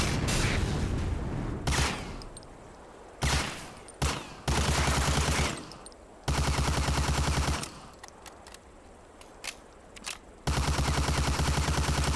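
Rifle fire on a training range in Medal of Honor: Allied Assault, a World War II shooter game, crackles in loud repeated bursts separated by short pauses, each burst ringing out sharply and cutting off abruptly.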